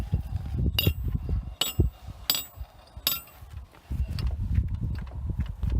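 A wooden medieval trebuchet windlass being spun, its ratchet and pawl giving four sharp, loud clacks about a second apart over low rumbling and handling noise.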